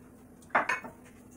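Utensils clink and scrape in a pot while milk, sugar and agar-agar are mixed for a vegan tiramisu, two quick metallic knocks close by, then quiet.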